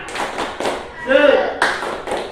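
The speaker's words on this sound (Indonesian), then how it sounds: "yang semangat semuanya, tepuk semangat." Classroom group doing a rhythmic patterned clap, several sharp bursts of claps in a set beat, close and loud, with a voice chanting in the middle.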